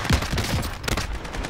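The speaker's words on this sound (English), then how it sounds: "Oh, nice shots, Brad." Gunshots in a video game shooter, a loud continuous flurry of overlapping shots and impacts filling the whole moment, with no talk over it.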